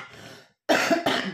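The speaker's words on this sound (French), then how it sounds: "j'ai un peu de bronchite, je tousse un petit peu" A person with bronchitis coughs twice in quick succession, harsh and close, after a softer breathy exhale.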